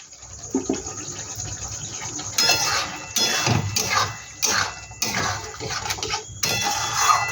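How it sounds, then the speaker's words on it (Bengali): Water from a rinsed mixer bowl poured into a pan of prawn curry, a wet splashing pour that starts softly and then runs in several louder bursts, with nobody speaking. "এবার আমি আন্দাজ মতন জল দিয়ে দেবো।"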